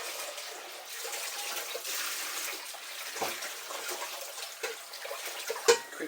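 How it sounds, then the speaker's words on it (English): Tap water runs steadily over a saucepan in a kitchen sink during a quick rinse, a soft continuous splash with a few louder knocks and clatters of the pan near the end. "Quick rinse of this saucepan here."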